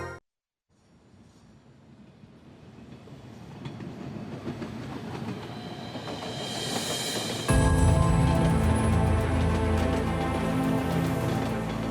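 A Yerevan metro train runs on its rails, its rumble building gradually from near silence into a loud, steady roar with a sudden jump in volume partway through, and no voices.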